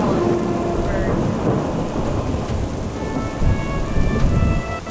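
A thunderstorm on the Amalfi Coast's Path of the Gods, with steady loud rain pattering over low rolling thunder that swells in places and continues throughout.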